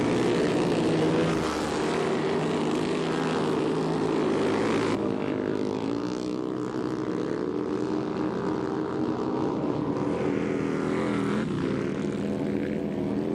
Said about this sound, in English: Listen to that Harley Davidson go by.